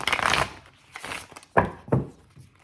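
Tarot cards being shuffled in several brisk bursts, a long riffle followed by shorter separate flicks and snaps, close and clear, with no voices.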